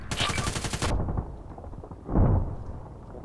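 Gunfire in the video game Contract Wars: a rapid burst of shots up front, then a single heavier report a little later, both fairly loud with quiet between.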